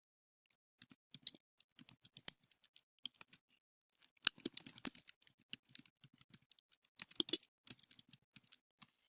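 Keys on a computer keyboard are tapped in sparse, irregular clicks, then a quicker run of close, crisp keystrokes, with no voices over them.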